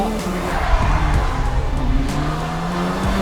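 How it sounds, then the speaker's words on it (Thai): Race car tires squeal and skid under a loud, continuous roar of racing engines, with cheering crowd noise and faint voices mixed in, at Bang Saen. "เสียงล้อ"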